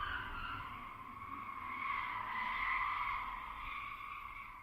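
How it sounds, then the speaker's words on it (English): Tires screech in a long, sustained squeal that swells and eases without a break, heard alone at moderate loudness over a low rumble. "how long can tires screech for?"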